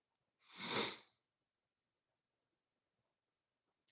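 A single sharp sneeze, close and fairly loud, bursts out alone and is followed by near silence.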